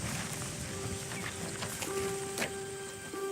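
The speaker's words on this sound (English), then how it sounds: "This is a purebred Spanish horse." A purebred Spanish horse's hooves clip-clopping on a farm, scattered soft knocking steps heard at moderate distance over a steady background hum and faint tonal whine, no voices.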